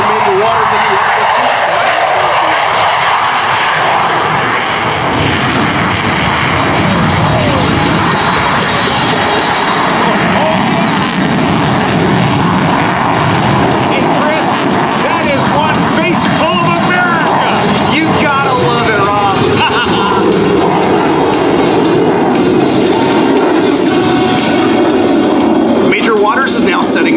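An F-16 Viper jet engine at an air show with 30,000 pounds of thrust, a loud sustained roar that swells and shifts, heard with crowd cheering and an announcer talking over it.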